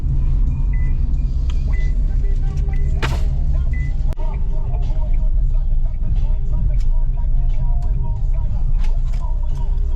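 A car drives slowly along a difficult sandy track at Hammam Ghezaz beach in Nabeul, giving a loud, steady low rumble close by, with occasional creaks and knocks from the vehicle.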